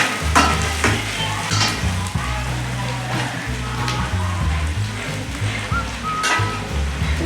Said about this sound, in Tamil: வெங்காயம் பச்சை மிளகாய் கட் பண்ணி போடலாம். கொஞ்சம் நல்லா வதங்கட்டும்.